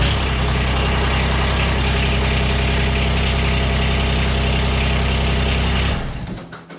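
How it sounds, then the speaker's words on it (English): A Mahindra eMax 20s compact tractor engine runs at a loud, steady idle close by for about six seconds, then cuts off and winds down into quiet. "I'm just gonna briefly start the engine so the oil filter will be full."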